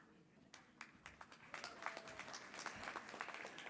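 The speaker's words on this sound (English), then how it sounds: "So she deserves a round of applause." Scattered clapping from a modest audience at a university diploma ceremony, starting as sparse individual claps and thickening into light, uneven applause, fairly faint.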